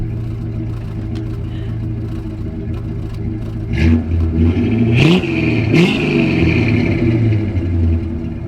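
A 1957 Chevy engine idles with a steady rumble, then revs in several sharp, raspy bursts through Flowmaster mufflers and an X pipe, loud and close.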